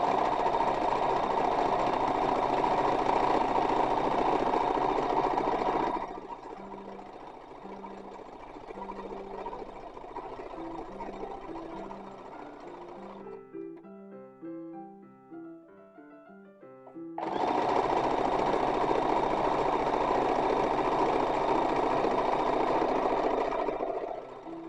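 A sewing machine stitches a baby petticoat bodice, running in a steady loud whirring rhythm, pausing into slower clicking stitches and quiet, then starting again at full speed close by.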